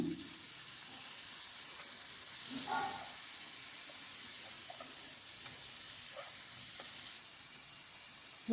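Frying in a pan while preparing seer fish curry, a soft, steady sizzle with faint scattered stirring clinks, fairly quiet throughout.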